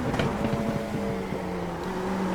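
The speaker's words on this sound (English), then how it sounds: "can hear that baffling of the exhaust. That's traction control kicking in." Exhaust from a car in a racing video game at Fuji burbles and stutters as traction control cuts in, a sustained engine tone with rapid, uneven pops, no voices.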